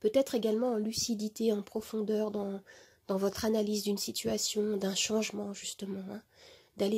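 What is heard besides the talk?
None of the usual background noises is heard.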